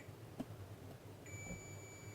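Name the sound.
multimeter continuity test beeping on shorted transistor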